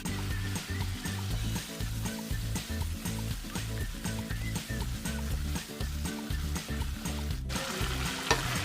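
Chopped tomatoes with ginger-garlic paste sautéing in a hot pan for vegetable kurma, giving a steady, close sizzle with bursts of stirring and scraping throughout, no talk.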